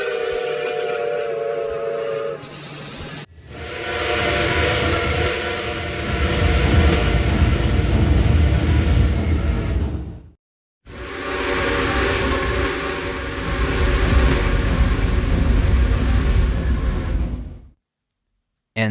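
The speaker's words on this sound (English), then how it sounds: "Canadian Pacific 2860 is the voice behind the digital Dolby whistle" Canadian Pacific 2860 steam locomotive whistle, a loud, close chime that first sounds as a short tone, then blows two long sustained blasts separated by a brief gap, over a rumbling background.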